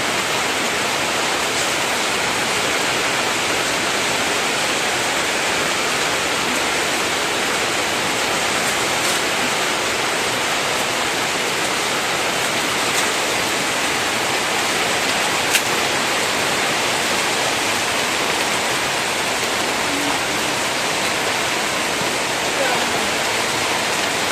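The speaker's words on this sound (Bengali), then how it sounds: "এখন বৃষ্টি হচ্ছে এটা হচ্ছে বিকালবেলা" Rain falls in the late afternoon after a hot day, a steady, dense hiss that holds evenly from start to finish with no voices.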